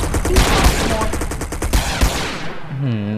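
Rapid bursts of automatic gunfire in the GTA video game, dense overlapping shots crackling loud and close for a few seconds before fading into a brief electronic tone.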